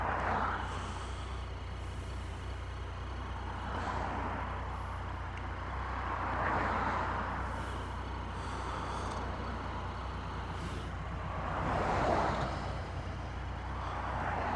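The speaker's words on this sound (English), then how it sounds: "If I can get a break in the traffic." Road traffic passes steadily near a roadside cafe exit in York, vehicles swelling and fading one after another over a constant low engine hum, heard from a stopped motorbike.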